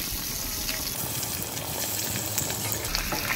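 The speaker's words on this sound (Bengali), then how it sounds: "এবারে আমি একে একে মাছগুলোকে ফ্রাই প্যানে দিয়ে দেবো ভাজা হওয়ার জন্য" Pabda fish fry in mustard oil in a frying pan, giving a dense, steady crackling sizzle up close, with no voices.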